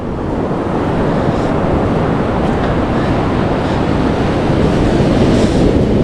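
Ocean waves roll in at Diamond Beach, New South Wales, as a loud, continuous roar of surf mixed with wind buffeting the microphone, with no voices.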